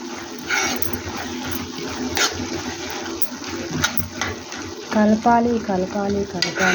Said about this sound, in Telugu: కలుపుతూనే ఉండాలి. కూర కలుపుతూనే ఉండాలి.